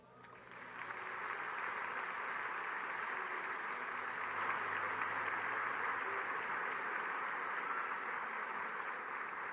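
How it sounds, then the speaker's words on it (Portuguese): Congregation in a church service applauding throughout, a steady, moderately distant wash of many hands clapping with no clear gaps, sustained evenly to the end. "Você pode dar um aplauso ao Senhor?"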